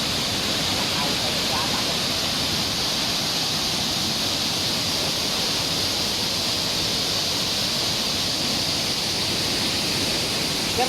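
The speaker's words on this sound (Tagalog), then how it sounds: "The famous Twin Falls." Twin Falls waterfall at Sitio Apog Falls in Barangay Aroro, Goa, Camarines Sur, rushes in a steady, dense roar from nearby, with faint voices mixed in.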